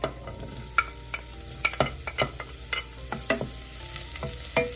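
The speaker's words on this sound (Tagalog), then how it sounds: "So, gigisa lang ako ng ginger, onion and garlic." Ginger, onion and garlic sauté in a pan for a Filipino vegetable dish, a steady close sizzle broken by repeated clinks and scrapes of a utensil stirring against the pan.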